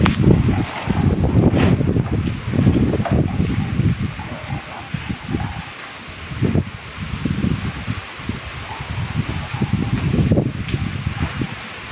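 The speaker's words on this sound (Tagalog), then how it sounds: "Malakas na po yung hangin" Strong typhoon wind in Tacloban roars and buffets the microphone in gusts, with a steady rushing background and no voices.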